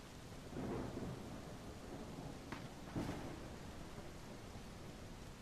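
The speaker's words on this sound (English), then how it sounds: "That lightning was loud AF." Thunder and rain from the video game The Isle: a steady hiss of rainfall with a low rumble early on and sharper thunder cracks near the middle, loud against the constant downpour.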